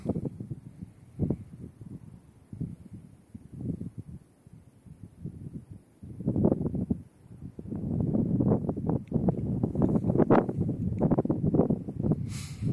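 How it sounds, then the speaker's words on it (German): Cold winter wind on the Rhine at Worms gusts against the microphone in uneven bursts, quieter at first then rougher and more constant, with a faint rustle in the background. "Boah, was ein Wind. Total windig, ey, und kalt"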